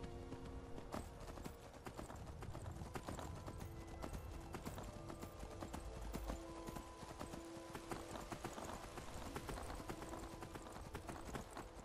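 Horse hooves clip-clop in Skyrim, a steady rhythmic trot of many quick clops continuing for the whole stretch, fairly close, with no one speaking.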